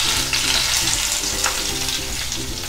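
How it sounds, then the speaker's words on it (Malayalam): Hot tempering oil with dried red chilli poured into pineapple pachadi, a loud steady sizzle and crackle up close that continues without a break and with no voices. "ഇനി ഇത് നേരെ കറിയിലേക്ക് ഒഴിച്ചു കൊടുക്കാം."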